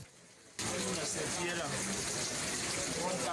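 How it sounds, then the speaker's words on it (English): Water gushing into a flooded, overcrowded prison cell, starting abruptly after a quiet half-second and then pouring in a loud continuous rush. "Regardez comme l'eau entre, regardez l'eau"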